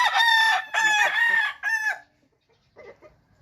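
White Kelso gamefowl rooster crowing loudly up close in three strong bursts, followed after a short pause by softer clucking.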